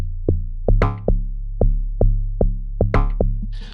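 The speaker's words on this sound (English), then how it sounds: "Then I added this log drum." Amapiano log drum sounding about ten times in a loose, syncopated groove, each hit a punchy, booming, pitched thump with a short ringing tail, loud and alone with no talking.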